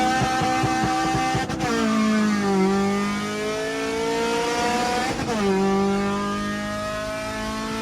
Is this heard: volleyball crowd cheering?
no